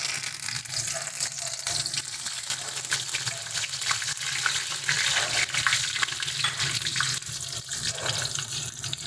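Mustard seeds, curry leaves, bay leaves and dried chillies sizzle in hot mustard oil, a dense, loud, continuous crackling hiss that holds steady throughout at close range.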